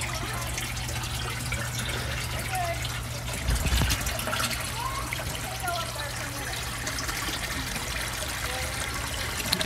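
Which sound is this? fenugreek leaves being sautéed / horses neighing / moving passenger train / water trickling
water trickling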